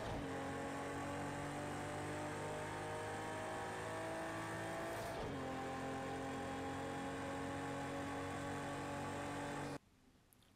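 A race car engine in Project Cars 2 holds a steady high-revving drone through a lap, with a brief dip and shift midway, loud and continuous until it cuts out near the end.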